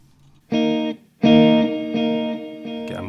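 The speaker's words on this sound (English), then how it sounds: "get a much longer tail. And it sounds like a little bit of a shimmer thing going on" Sustained electric guitar notes through an MXR Joshua echo pedal with a washy reverb that rings on and blurs between chords, a long shimmering tail trailing each strum.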